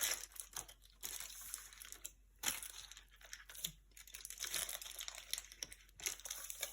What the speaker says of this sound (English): this foil is just helping us shape it up.